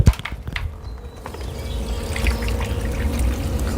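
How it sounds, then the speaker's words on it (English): Liquid citrus and fruit tree feed solution poured as a soil drench onto the ground, a steady close trickle and splash running continuously for several seconds after a brief opening knock. "I'm going to go ahead and take the solution here, and I'm simply going to pour it"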